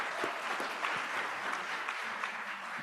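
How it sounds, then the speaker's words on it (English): Dinner event audience giving a sustained round of applause, a dense, even wash of many people clapping at moderate loudness with no talk over it. "Give them a round of applause as well."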